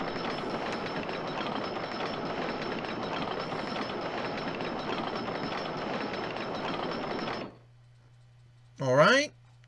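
Roller coaster trains running along a track in the video game OpenRCT2, a steady rumbling clatter of rolling cars that stops abruptly, followed by a brief rising whistle-like tone.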